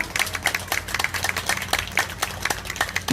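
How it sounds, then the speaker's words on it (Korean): A small audience at a neighborhood residents' assembly gives scattered, uneven hand clapping, individual claps distinct and moderately close, lasting a few seconds with no talking over it. "여러분 박수를 한번 화답을 보내볼까요?"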